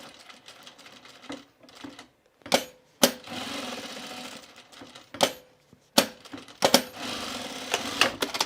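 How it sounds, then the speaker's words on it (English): Sewing machine stitching a small flap on a pair of pants right sides together, heard in short bursts broken by sharp clicks and handling knocks, close and fairly loud. "I'm gonna sew this right sides together, this little flap here."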